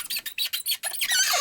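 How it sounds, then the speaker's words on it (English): A joystick being pressed down and rocked around squeaks in a rapid run of short, shrill, mouse-like chirps that blur into a steadier high squeal at the end, close and alone. "it squeaks."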